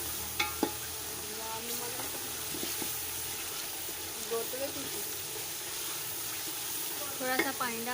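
Chilies and salt sizzle and fry in a pan while kadhi is prepared, a steady close hiss with some stirring, faint clinks and a bit of water running in the background.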